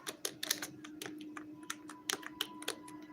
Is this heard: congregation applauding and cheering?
no